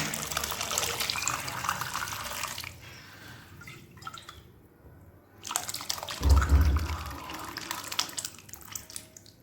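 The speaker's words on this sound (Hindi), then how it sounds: "तो अब हम उबली हुई दाल को कढ़ाई में डाल देते हैं।" Thick boiled lentils pour and splash into a wok for sambar, a wet sloshing that pauses midway and then resumes with a heavier plop.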